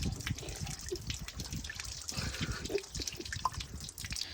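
Water poured over the body of a VW Golf Mk7 splashes and sloshes, with steady close trickling and dripping throughout and no talk.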